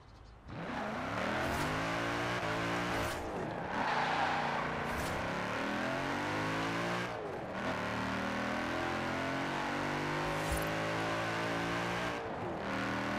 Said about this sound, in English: that's quite a nice sound coming from a stock engine